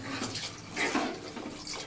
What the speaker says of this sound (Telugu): కొన్ని వాటర్ పోసుకుంటున్నాను నేను.